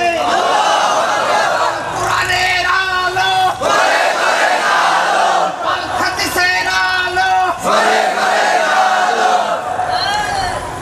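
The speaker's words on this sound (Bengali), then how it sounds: "স্লোগান দিয়ে আল্লাহরে দেখান।" A large crowd at an Islamic religious gathering shouts slogans in unison, loud and close, with strong repeated bursts of massed voices running through the whole stretch and brief dips between chants.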